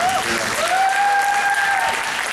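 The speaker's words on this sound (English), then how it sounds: "Round of applause for that." Applause from a comic con audience fills the room steadily, loud and close, with a sustained tone ringing faintly above the clapping.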